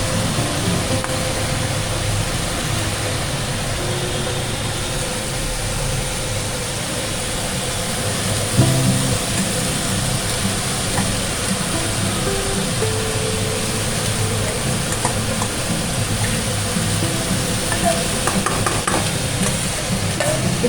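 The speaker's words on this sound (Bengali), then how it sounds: "আমি এবার মোচাটা দিয়ে দিচ্ছি।" Chopped banana flower sizzles and fries in a pan for a Bengali curry, a steady broadband hiss with occasional stirring scrapes, continuous and close with no talking.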